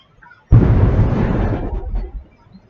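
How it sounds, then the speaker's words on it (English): A bomb blast from a played video bursts in suddenly, loud and broadband, then rumbles on for about two seconds before fading, with no voices over it. "Was that a fucking bomb?"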